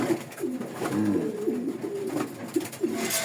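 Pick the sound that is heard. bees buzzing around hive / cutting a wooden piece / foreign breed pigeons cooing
foreign breed pigeons cooing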